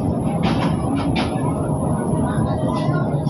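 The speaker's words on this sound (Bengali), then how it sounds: "অলরেডি পঞ্চগড়গামী একতা এক্সপ্রেস ট্রেনটি জয়দেবপুর ছেড়ে যাচ্ছে" Ekota Express intercity train bound for Panchagarh pulls out of Joydebpur station, giving a steady, loud low rumble of rolling wagons with faint higher screeches and clatter over it.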